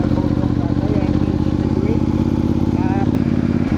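A motorcycle engine idles and runs steadily throughout on a solo ride through the Cordillera mountains near a rock formation, a continuous low rumble close by.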